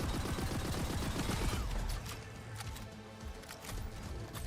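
Rapid gunfire from a video game weapon pounding an enemy, a dense fast rattle of shots up close that eases into scattered impacts and lighter fire.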